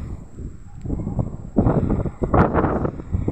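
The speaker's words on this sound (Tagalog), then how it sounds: "Ay, mahangin." Wind on Mt. Banahaw, gusty rushing and buffeting across the microphone, rising in bursts after a quieter start, close and rough.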